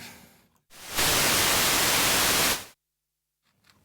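Analog white noise from a Bastl Instruments noise square module in a modular synth: a dense, loud, full-band hiss that switches on abruptly, holds steady for under two seconds, then cuts off into silence.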